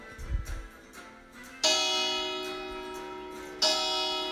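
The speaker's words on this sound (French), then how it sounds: "Mais voilà que sonne la cloche de l'église." Church bell in a French children's story about princesses and knights: two loud, resonant strikes whose long, humming tones ring out and slowly fade.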